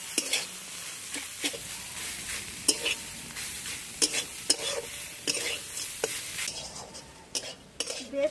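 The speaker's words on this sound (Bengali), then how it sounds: "এই সব কিছু নেড়ে চেড়ে বেশ সুন্দর করে সবজির পুরটা তৈরি করে নেব।" A spoon stirs a vegetable filling of chopped coriander leaves, fried spices and salt in a pan, making repeated scraping clinks against the metal over a soft background sizzle, close and steady with no talk.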